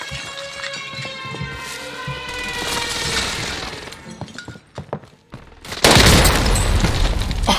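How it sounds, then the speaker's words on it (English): A precision airstrike lands in a video game battle, with scattered impacts and debris building to a sudden loud, sustained explosive blast with crumbling, shattering noise near the end. "Enemy precision airstrike."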